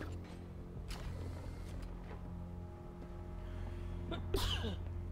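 One sharp, close sneeze bursts out near the end, over the low, steady hum of the video game Batman: Arkham Knight.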